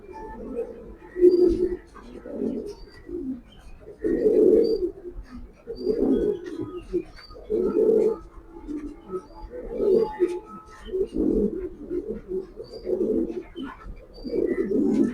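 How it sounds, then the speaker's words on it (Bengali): Racing pigeons coo repeatedly in low, throaty bursts, close by and fairly steady, with faint chirps in the background. "অনেক ছটপটে কবুতর"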